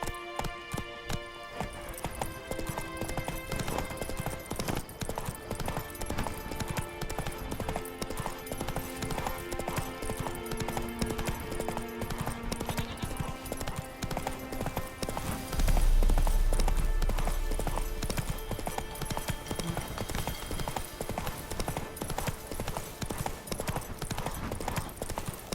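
Roach, the horse from The Witcher 3, gallops in steady clip-clop hoofbeats throughout, set against dense game music, with a brief low thump partway through and maybe a faint voice.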